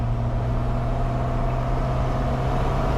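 An old Triumph car drives along a highland road, its engine holding a steady low drone heard from inside the car, with a constant rumble of road noise and no voices.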